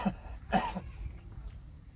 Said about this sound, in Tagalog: Yung ubo mo ayaw umalis sa iyo